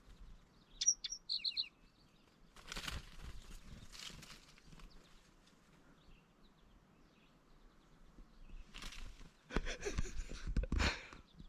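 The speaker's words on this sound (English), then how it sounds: "Oh, check out these birds." Birds chirping along a mountain hiking trail on Moosic Mountain, with short high tweets early on and bursts of outdoor rustling and footsteps later, with no talking.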